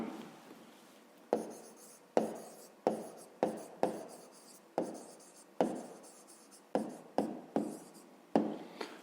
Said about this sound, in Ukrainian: зараз записуємо відповідь. Пишемо відповідь.